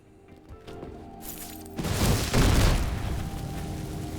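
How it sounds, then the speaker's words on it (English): An initial mine blast in the video game Atomic Heart followed by a heavier secondary explosion, a quiet crackle building into a loud booming burst that rumbles and fades over a few seconds. "So we still get the initial explosion and then we get a secondary explosion."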